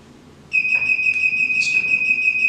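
Electric TV cover lift controller chirping, a sustained high electronic tone with faint warbling pulses, close and steady for about two seconds after a quiet start, no voices.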